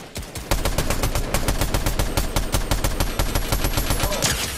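Rapid automatic gunfire in the Fortnite Chapter 5 video game, a dense, fast, evenly spaced burst of loud shots lasting several seconds with no talking.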